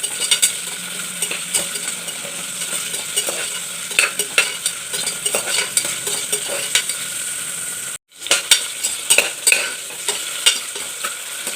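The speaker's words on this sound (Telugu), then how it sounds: "ఇప్పుడు ఈ కూరగాయ ముక్కల్ని కాస్త వేగనిద్దాం" Capsicum and carrot pieces frying in a pan for methi pulao, a continuous close sizzle with repeated spoon scrapes and taps against the metal, briefly cut out for a moment partway through.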